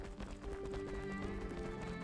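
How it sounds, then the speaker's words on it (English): Horse hooves clip-clop steadily in a video game set among rocks, a continuous mid-loud trotting rhythm layered with game sounds and tonal music throughout. "there's a horse around the rocks here"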